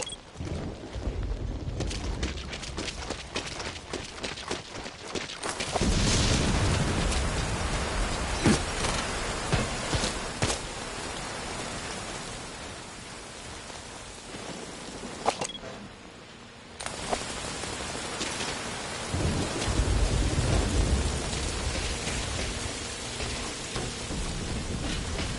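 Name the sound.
rain and thunder in video game Metal Gear Solid V Ground Zeroes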